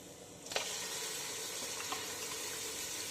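Mutton pieces frying in a pan with a spice paste for spicy mutton pickle, giving a steady, moderate sizzle throughout, with a couple of brief sharper crackles or clinks early on and near the end; no talking.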